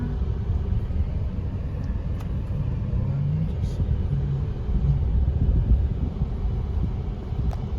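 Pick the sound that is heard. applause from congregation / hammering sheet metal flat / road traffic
road traffic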